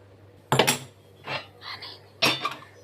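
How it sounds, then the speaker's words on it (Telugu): Cast iron pan set down on a stove for seasoning: two sharp metallic clanks, near and fairly loud, separated by a softer scrape, with no talking. "ఇట్లాగా స్టవ్ ఆన్ చేసి ప్యాన్ పెట్టాను"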